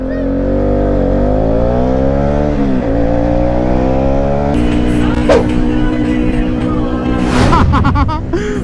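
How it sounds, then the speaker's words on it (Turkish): A car arrives on a Turkish street, its engine rising and falling steadily up close, with a motor whine and rumble persisting throughout while scattered knocks and a faint voice break in later. "hadi araba geldi"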